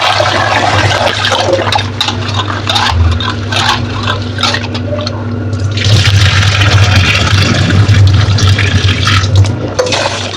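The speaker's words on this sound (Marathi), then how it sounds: "आता ते दहा पाण्याने मी हे तांदूळ आणि डाळ धुवून घेतले" Rice and urad dal are rinsed in water for amboli batter, with loud, close sloshing, pouring and swirling and grains scraping against the vessel.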